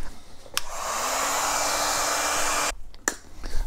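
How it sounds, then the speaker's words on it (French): Heat gun blowing steadily for about two seconds to warm glue on an electric scooter damper (Dualtron Thunder), a loud close airy whoosh with clicks before and after. "Maintenant, on va chauffer un peu pour que la colle se dilate."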